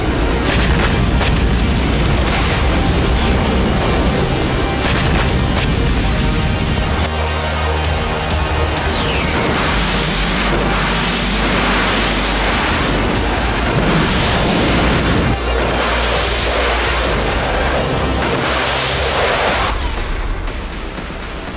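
A military rocket and artillery bombardment in a war exercise around Taiwan, with dense rolling booms and blasts overlapping continuously and loudly, layered with a rumbling din and rapid bursts of fire.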